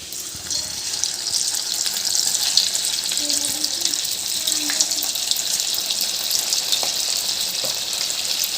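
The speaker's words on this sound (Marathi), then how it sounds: "आता आपण मॅरिनेट केलेलं फ्लॉवर जे आहे ते एक एक करून त्याच्यात सोडायचं" Marinated cauliflower pieces deep frying one by one in very hot oil for crispy gobi manchurian, a steady dense sizzle and bubbling hiss that runs without a break from start to finish, close and fairly loud.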